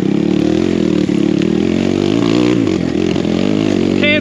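BBR KLX170RF dirt bike climbing a steep, loose, dusty hill, its engine roaring loud and close under heavy throttle with a rough, continuous note that wavers as it labours.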